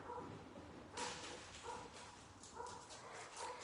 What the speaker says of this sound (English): I have to get these dogs in check.